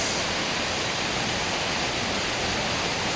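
Babay Falls, a waterfall, gives a dense, constant hiss and rush of falling water, loud and unbroken throughout.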